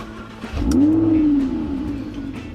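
A sports car engine, an Audi R8 or Lamborghini Huracán, starts with a quick whirring crank and then catches into a loud, rising bark. It settles into a steady idle that continues alone.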